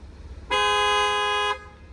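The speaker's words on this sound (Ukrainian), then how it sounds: "Також клаксончики працюють" A Hyundai Tucson's horn, triggered from the key fob, sounds one loud, steady honk lasting about a second, alone with no talking.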